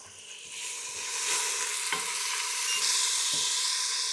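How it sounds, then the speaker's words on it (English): Steady, bright sizzling of garlic frying in a pan, crackling and hissing continuously with a few sharp pops and clinks, close up, no voices. "Who doesn't love the sound of sizzle?"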